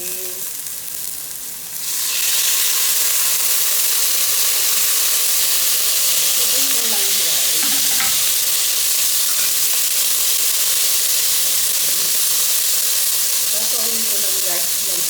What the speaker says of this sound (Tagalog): Ilagay ko na itong sardinas, guys.